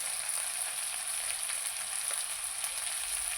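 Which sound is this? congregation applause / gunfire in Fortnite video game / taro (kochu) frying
taro (kochu) frying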